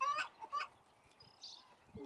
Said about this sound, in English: we have like 40 chickens out here